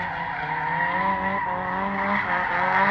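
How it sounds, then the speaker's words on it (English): A Nissan S15 drift car with an SR20 engine holds a loud, sustained engine note while sliding at drift practice, with tire squeal running steadily through the whole stretch and no talking. "Celebi with the S15, probably rocking an SR20 from the sound of it."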